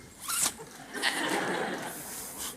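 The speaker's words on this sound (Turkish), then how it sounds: "önden fermuarlasın" A clothing zipper drawn shut in one short, close pull, its quick raspy teeth rattling over a quiet background, followed by a few soft fabric rustles.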